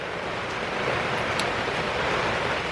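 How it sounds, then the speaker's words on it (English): A dense, steady hiss of heavy rain pours down without a break, loud and uniform throughout. "it was literally pouring down rain like this"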